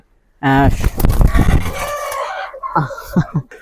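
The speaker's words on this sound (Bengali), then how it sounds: "মুরগিটা ছুটে গেল" A domestic chicken crows and clucks loudly and close by in a burst of harmonic calls, followed by quieter, broken clucks and rustling.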